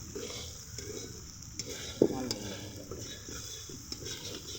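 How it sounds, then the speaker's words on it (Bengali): A spatula stirs food in a frying pan, scraping and sizzling steadily up close, with one sharper knock against the pan partway through and faint voices in the background. "একজন যে জাহাজ চালায় সে দেখুন খুন্তি নাড়াচ্ছে"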